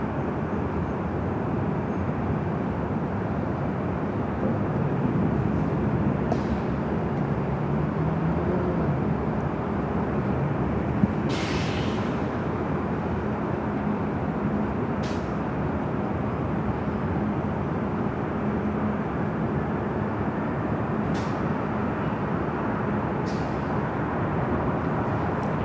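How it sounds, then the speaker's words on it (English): A United Airlines Boeing 737 MAX 8, one year old, arriving at LAX from SFO: a steady, broad jet roar that holds evenly throughout at moderate distance, with no talk over it. "a flight coming in from SFO, United Airlines flight 1897 on a 1-year-old 737 MAX 8"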